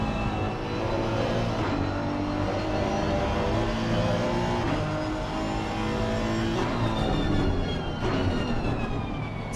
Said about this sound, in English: you can hear them just going down through all those gears